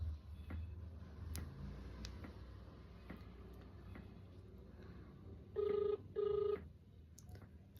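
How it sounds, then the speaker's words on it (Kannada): An outgoing call's ringback tone sounds twice as a pair of short, steady buzzes late in the clip, heard through a phone over a quiet background hum with faint ticking. "ಗೈಸ್, ರಿಂಗ್ ಆಗ್ತಾ ಇದೀರಿ."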